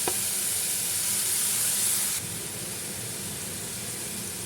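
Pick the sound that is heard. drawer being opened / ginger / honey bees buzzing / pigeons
ginger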